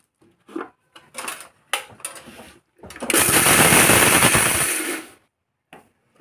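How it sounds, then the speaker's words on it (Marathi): A kitchen mixer grinder whirs loudly for about two seconds, grinding a soaked lentil mixture for fasting appe batter, preceded by clattering and rattling of the jar and lid. "आता हे आता मिक्सरला वाटून घेऊया।"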